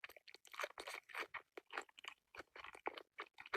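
Food is crunched and chewed up close, with quick, irregular bites and chews repeating steadily, quiet and with no talking.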